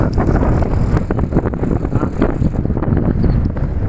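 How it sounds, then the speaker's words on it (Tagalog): Steady wind gusting across open countryside near a river with islands, a continuous buffeting rush over the microphone that stays loud and unbroken with no one talking. "Mahangin."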